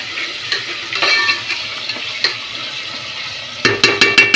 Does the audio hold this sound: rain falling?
no